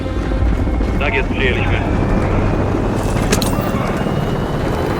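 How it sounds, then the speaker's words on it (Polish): A loud, steady attack helicopter rotor drone fills the scene as it takes off in Call of Duty: Modern Warfare 3, while someone speaks briefly in Polish over it. "Uwaga, wrogi śmigłowiec szturmowy startuje."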